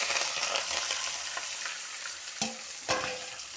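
Onions, green chillies and curry leaves fry in oil with fenugreek seeds, a close, steady sizzle broken by a couple of sharp stirring scrapes.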